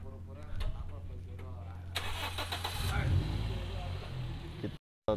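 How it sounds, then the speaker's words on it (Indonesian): A Toyota Vios engine cranks and catches, settling into a steady low rumble, with a short burst of louder noise partway through and a brief cutout near the end. "Kita cek suara mesinnya."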